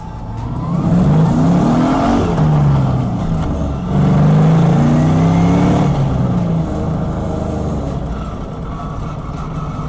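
A V8-swapped Mazda RX-8 engine revs hard and loud, rising and falling in pitch through several surges as the rear slides out in second gear, close by and continuous with no talking.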